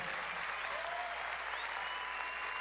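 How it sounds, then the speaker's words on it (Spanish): Audience applause fills a Miss Universe Puerto Rico pageant hall, steady dense clapping throughout with no pause, crowd close and fairly loud. "El aplauso para ti"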